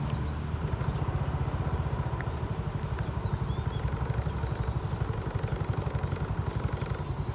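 A Cummins NTA855-R1 350-horsepower diesel engine on a special express diesel railcar train chugs with a steady rapid low pulse at moderate distance as it arrives at a station, a continuous rhythmic rumble with no talking.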